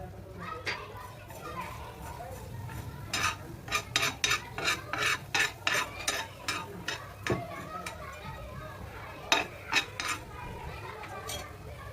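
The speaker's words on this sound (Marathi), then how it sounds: "थोडेसे तेल टाकायचं, धने भाजून घेणार आहोत।" Coriander seeds roast in a little oil in a pan while a utensil stirs them, making repeated rhythmic scraping and rattling strokes over a low background.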